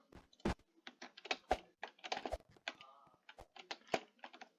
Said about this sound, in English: My keyboard just does not want to work. You guys can hear it go clickety clackety.